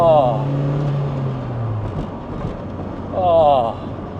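Lotus Elise sports car cruising slowly at around 20 mph, a steady low engine drone with road and wind noise throughout, under a person's voice speaking and exclaiming at the start and end.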